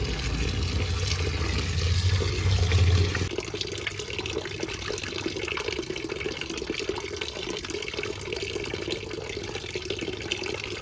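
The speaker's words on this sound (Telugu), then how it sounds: "గోంగూర అంతా శుభ్రంగా కడిగి జల్లి గిన్నెలా వేసుకుందామండి" A running tap gushes into a sink as gongura leaves are rinsed clean. The flow is heavy and close at first, then settles into a steadier, lighter stream with soft splashing and no speech.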